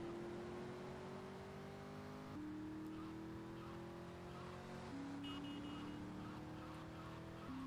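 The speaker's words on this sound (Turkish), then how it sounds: "Böyle hafif döndüğüm zaman araba böyle drift yapıyor gibi ses yapıyor ya." Car engine in GTA Vice City, a steady droning tone that climbs in pitch through three gear-like steps as the car drives and drifts, faint tire noise beneath, no voices.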